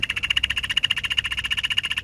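Poisonous frogs call inside a home terrarium, a steady rapid trill of pulsed croaks repeating evenly, close and continuous without pause.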